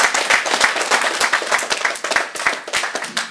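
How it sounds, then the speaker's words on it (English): A press-conference crowd gives boxers a round of applause before their televised bout, with dense, close clapping running steadily throughout at a lively, loud level. "these guys deserve a round of applause for even getting in the ring"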